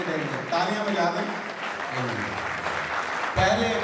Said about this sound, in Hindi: एक मिनट तालियां बजा दें